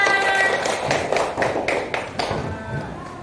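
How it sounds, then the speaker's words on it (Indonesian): A group claps hands in several uneven bursts, close by, with some tapping and background murmur mixed in. "Tepuk tangan semua"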